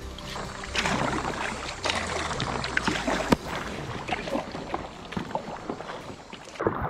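A rowboat paddled alone through the Amazon jungle: continuous rushing water and wind buffeting the microphone, with splashy oar strokes and knocks up close throughout.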